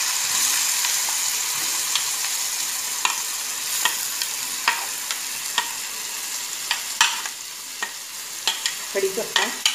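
Onion sautéing in a pan for masala upma, with cumin, curry leaves and chillies, gives a steady close sizzle broken by frequent sharp scrapes and clinks of stirring.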